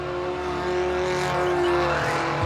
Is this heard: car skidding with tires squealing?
yes